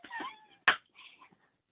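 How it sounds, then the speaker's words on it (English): A cat meows several times close by, a short mewing call followed by a sharper, louder meow and then a softer trailing one, with quiet pauses between. "I blame the cat"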